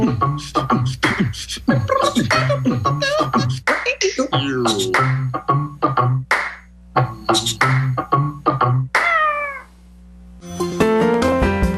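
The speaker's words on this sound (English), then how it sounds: "Oh, there's my cat." A pet cat meows repeatedly, loud and close, in a long run of insistent calls with short pauses between them and a higher drawn-out cry near the end.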